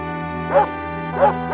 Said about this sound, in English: Hey, doggy.